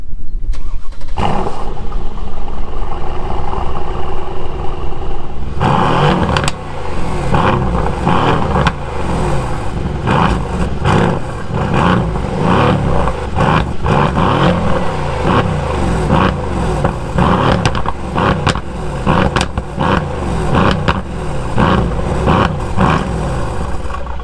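A Mercedes C63 AMG V8 cranks and fires after a few seconds of loud hiss, then rumbles with a deep, close idle and repeated throttle blips that swell and fall.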